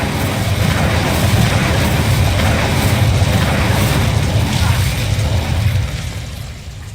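A fire spell cast in Hogwarts Legacy lets out a loud, sustained roaring whoosh with a deep rumbling body that holds steady for several seconds, then fades near the end.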